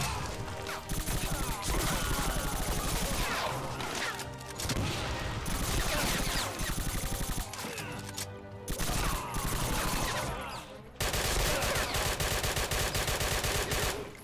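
Rapid machine-gun fire from the Wolfenstein/Doom mod Blade of Agony rattles in long, loud continuous bursts with explosions and crashes mixed in, broken by a couple of brief pauses.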